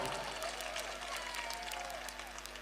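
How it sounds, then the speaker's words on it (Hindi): Audience applause at a Hindi poetry recital, a faint, steady patter of many hands heard from a distance over a low background hum for the whole stretch. "बजाओ तालियां"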